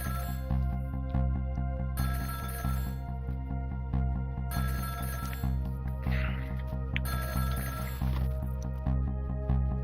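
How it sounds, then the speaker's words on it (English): A telephone rings in the video game Ghost Trick, a repeated electronic ringtone in regular bursts over a sustained musical background, fairly quiet throughout. "the phone rang"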